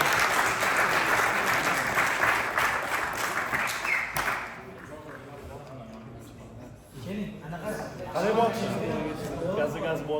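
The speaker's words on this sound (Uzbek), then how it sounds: "Davomiy qarsaklar." Sustained applause from a live audience at a champion's event, loud and dense for the first four seconds, then thinning into scattered clapping and crowd noise with voices talking underneath.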